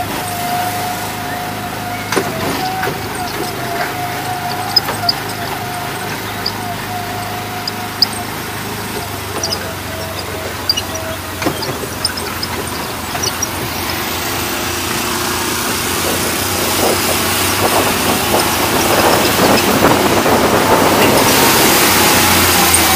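Steady car engine drone while driving through the Alps, a constant low hum with a brief whine early on and rising road rush toward the end.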